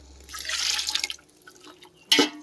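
A short splashing pour of water into a pot of raw jackfruit set to cook, trailing into drips, followed by a brief clunk; no speech.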